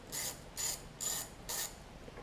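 A ratchet clicks as it loosens a 10 mm ground bolt on a Kohler Command engine on a Husqvarna mower, giving four quick, evenly spaced bursts of clicking close by.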